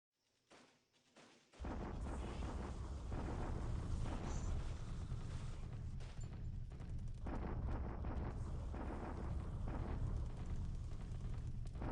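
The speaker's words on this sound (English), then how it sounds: "Allied artillery doing its job" Allied artillery shelling in War in the Pacific Admiral's Edition: after a couple of faint thumps, a dense, continuous rumble of distant explosions and booms rolls on steadily without pause, and nobody speaks.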